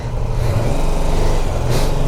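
A BMW F450 GS motorcycle engine runs steadily in first gear, a continuous low mid-range drone with a brief brighter swell near the end, close and loud with no talk over it.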